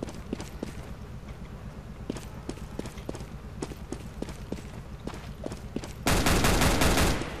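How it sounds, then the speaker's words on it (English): Gunfire in a CS:GO match: a steady run of clipped, evenly spaced shots or footsteps at moderate distance, then a sudden loud burst of close firing near the end. "I'm just shooting."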